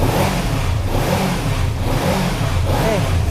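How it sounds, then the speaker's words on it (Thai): A yellow 2015 Kawasaki Z300 motorcycle engine revs steadily up close, a continuous rumbling drone that swells slightly as the throttle is worked during warm-up, with no voices. "มาเรามาดูรอบเครื่องกันหน่อย จะวอร์มเครื่องกันนะครับ"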